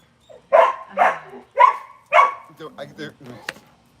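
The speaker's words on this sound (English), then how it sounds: "Is the dog out next door?" A pet dog barks several times next door, four loud close barks in quick succession followed by softer yips and whimpering sounds, with some voice-like noise mixed in.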